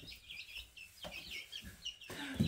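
A hen clucks close by in a few short bursts of throaty clucks separated by brief pauses, fairly loud against a quiet background, with no talking.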